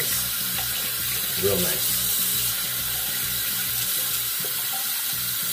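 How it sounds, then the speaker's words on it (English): Steady tap water runs into a sink to rinse a shaving brush: a continuous close hiss of flowing water with one brief spoken phrase over it. "just clean up the brush real quick while this is drying up"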